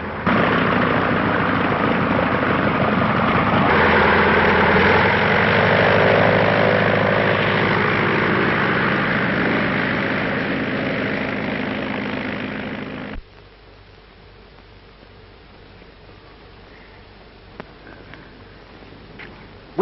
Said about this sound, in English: Get the number of that plane.